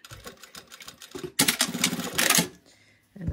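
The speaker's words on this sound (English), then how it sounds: "gonna sew right up to that seam line and back stitch" A sewing machine stitches a pants waistline up to a seam line and back-stitches, loud rapid mechanical chatter in two bursts after a few soft clicks, then stopping.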